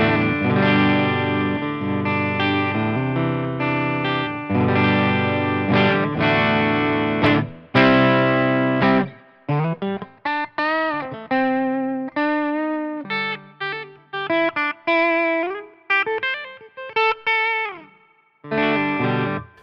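A Hils America The Essence electric guitar played on a clean tone through an amp plug-in, with sustained strummed chords and then separate picked notes and short phrases ringing with gaps between them, loud and close.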